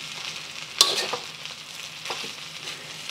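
Bacon egg fried rice being stirred and moved around in a hot pan, with a sharp scrape or clink of the utensil followed by a soft ongoing sizzle and a few quieter stirring scrapes.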